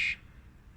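Bird squawking on a deck, a single short harsh call, close and fairly loud, fading quickly into quiet.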